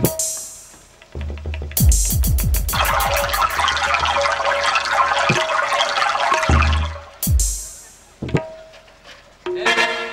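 Squeaky rhythmic strokes of a hand-pumped tube well in an open field, a quick run of pump clanks followed by a sustained gush of water splashing into a vessel, the pumping repeated in short bursts with brief pauses between.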